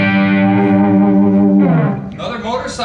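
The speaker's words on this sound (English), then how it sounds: "kind of more of the overdrive classic rock sound." An electric guitar chord rings out with crunchy classic rock overdrive, sustaining for over a second before a few shorter distorted notes follow.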